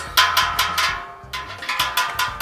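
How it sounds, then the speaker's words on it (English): Metal handles on a FermTank 8-gallon stainless steel fermenter rattling, a run of short, sharp metallic clanks and jingles in quick irregular bursts, fairly close and alone. "All of our rattling was our handles."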